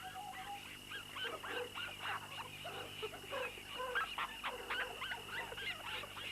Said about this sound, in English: The pups nudge at Torn Ear's muzzle to encourage her to feed them.